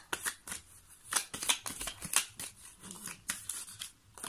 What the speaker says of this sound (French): je vais seulement tirer une petite carte d'énergie.